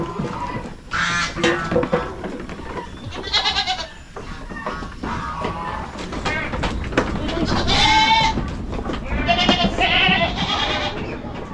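Goats bleat repeatedly at a Philippine farm with pig farrowing pens, several nasal, wavering calls overlapping close by over a steady barnyard background, with occasional murmuring voices.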